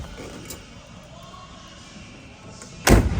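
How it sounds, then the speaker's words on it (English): A single solid slam near the end after quiet background, sharp and close like the door of a 1966 Chevrolet Chevelle shutting. "Doors open and close beautifully."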